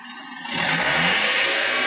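A diesel truck engine with a 3000 engine is revved up sharply from near quiet into a loud, steady, rough roar close by, checked for smoke output.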